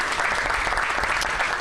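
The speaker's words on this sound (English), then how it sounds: "And so let's give them a big round of applause for that." An audience at a neighborhood council gathering claps in a brief, steady burst of applause, even and sustained with no pauses.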